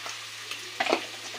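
Coriander goes into a frying pan of hot oil, giving a soft, steady sizzle with a brief louder crackle and stir midway, close and fairly quiet.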